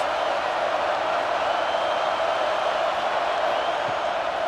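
A stadium crowd in the College Football 26 video game, during an Oklahoma State vs Houston matchup, keeps up a steady, even roar of cheering noise throughout, without distinct peaks.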